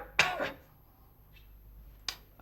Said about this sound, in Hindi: जरा खांसो।